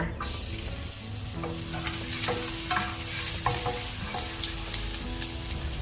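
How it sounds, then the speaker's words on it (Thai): Garlic stir-frying in a couple of spoonfuls of leftover pork-frying oil for Mongolian pork gives a steady close sizzle, with repeated scraping and tapping of a spatula against the pan throughout. "จากนั้นใส่กระเทียมลงผัดนะคะ"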